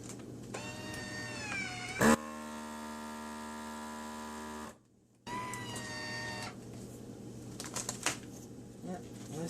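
A FoodSaver vacuum sealer pumps air from a bag of blueberries with a steady whining hum, broken by a click, a brief pause and further motor whirs, with faint handling noises close by.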